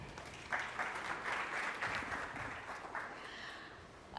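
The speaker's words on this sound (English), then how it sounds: "A round of applause for our panel." Applause for a panel at a security executives' summit, a modest, fairly distant patter of clapping that swells briefly and then thins out.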